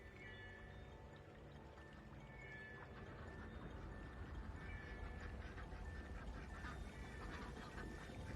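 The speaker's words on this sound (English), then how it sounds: "Duck noise." Repeated duck quacks, steady and moderately loud, over a dense constant background noise that fills the whole stretch without pauses.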